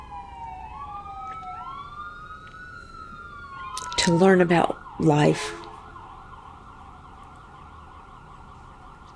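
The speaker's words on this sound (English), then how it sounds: "the sirens going by" Wailing sirens sweep past in the distance, rising and falling over steady traffic noise, while a person speaks briefly partway through.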